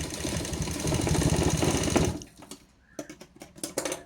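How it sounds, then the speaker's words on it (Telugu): A sewing machine stitches baby frock fabric in a fast continuous run for about two seconds, then stops, followed by a few scattered clicks and handling taps. "ఇలా మధ్యకి ఒక కుట్టు వేసుకోవాలి."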